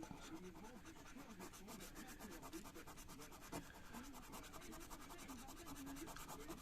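A French FDJ lottery scratch card, a crossword-style Maximo ticket, is scratched with steady, continuous rasping strokes up close, a faint voice underneath and one sharper scrape partway through.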